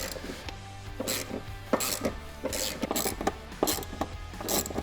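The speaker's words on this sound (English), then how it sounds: "you've got a 15mm nut on both sides on the front seat. We don't need to remove these, we just need to loosen them a good bit." A ratchet loosens 15mm front seat nuts inside a C8 Corvette, giving rapid repeated clicking with metallic ticks in close, steady bursts and no talk.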